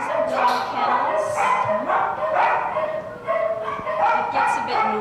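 Several dogs bark and yip in an animal shelter's kennel room, overlapping bursts echoing close by, with a voice talking under the din.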